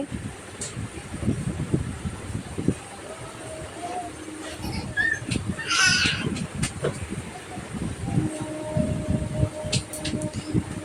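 Steady rumble of a metro train running under a river, with a brief high squeal partway through and some background chatter.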